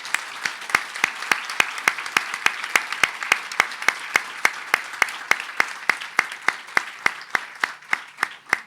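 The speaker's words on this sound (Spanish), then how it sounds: "Los saludamos con un cálido aplauso" Warm applause from a lecture audience at a book fair's keynote talk, with sharp individual claps standing out in a fast, even rhythm near the microphone over a softer crowd of hands.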